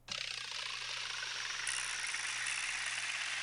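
Korg Wavestation Alien Vibraslap patch pitched down in a sampler with a high-pass filter, a sustained hissing, rattling wash that starts abruptly, brightens midway, and holds steady with little low rumble.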